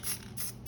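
Short hissing bursts of a spray can, two quick pulses of high airy spray in close succession, near and moderately loud.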